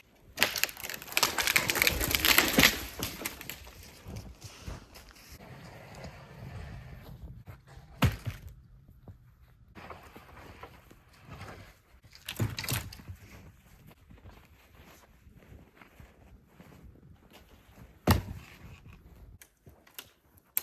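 Tree being cut down for firewood during winter camping in a snowstorm, with crunching, cracking chops and snaps, a loud burst early on and then scattered sharp hits and quieter rustling, with no talk.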